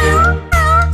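A cat meows in a children's nursery rhyme, with two drawn-out, tonal meows close and loud over steady background music.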